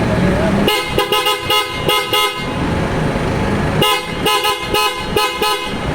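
Aftermarket PIAA horns on an Isuzu D-Max pickup honk loudly and close in two bursts of rapid short toots, with a steady outdoor rumble between them.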